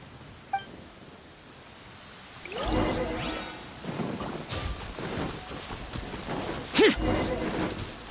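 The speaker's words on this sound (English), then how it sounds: "Uh-oh! Lightning storm!" Lightning storm in the video game Genshin Impact: steady rain hiss with rumbling thunder bursts and a sharp crack near the end, loud and close, with a brief voice over the storm.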